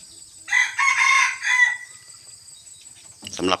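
A bantam rooster crows once, a high, strained cock-a-doodle-doo close by, followed by a short burst of clucking.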